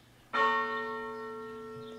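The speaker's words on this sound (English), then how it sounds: "So, how do I ring the bell?" A single loud strike of a bell-tower bell in a video game rings out cleanly and leaves a long, steady, ringing tone that fades slowly over about two seconds, with no voices.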